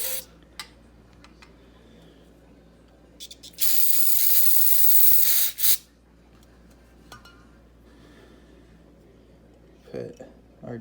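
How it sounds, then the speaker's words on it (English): Carburetor cleaner sprayed onto the jets of a Holley 4412 carburetor during a rebuild: one steady, close hissing burst of about two seconds, with light metallic clicks and handling noises before and after. "I'm actually going to hit these jets one last time with just a little bit of carb cleaner"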